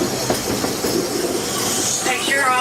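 Walt Disney World Railroad steam train at Magic Kingdom rolling along, with a steady rumble and clatter of the cars, a rising wheel squeal near the end, and a faint voice briefly heard underneath.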